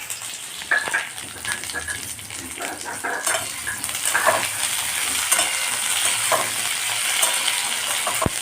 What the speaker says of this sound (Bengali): আমি ততক্ষণ আলুটা একবার নেড়ে দিই এখানে।